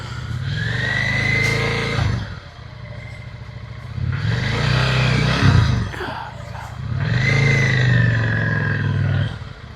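A Yamaha V-Star motorcycle rides along nearby, its engine rumbling in three surging swells of revving and easing off, loud and continuous throughout.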